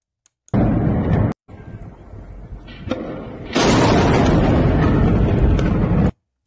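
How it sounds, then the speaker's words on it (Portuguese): A huge explosion roars out, a short blast followed by a sustained rumbling boom that swells again into a long, loud roar before cutting off. "E essa foi a segunda explosão, a mesma explosão as duas, tá?"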